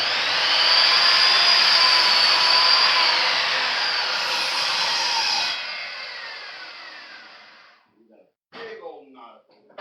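A power saw cutting a 15-inch length from a 2x4 board gives a loud, steady, high whine for several seconds. It fades as the cut finishes, followed by a few brief knocks and clatters.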